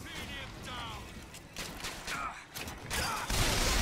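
Gunfire in the video game Bioshock Infinite, bursts of loud shots and crashing combat effects layered with chaotic game sounds while a player talks excitedly over it.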